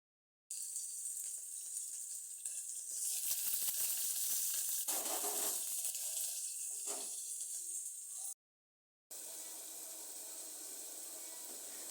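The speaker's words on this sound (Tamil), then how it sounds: "இதை வச்சு நம்ம இப்போ கொஞ்சம் தாளிக்க போகிறோம்" Loud sizzling and crackling of spices hitting hot oil, swelling and spitting for several seconds, briefly cut off, then settling into a steady fry.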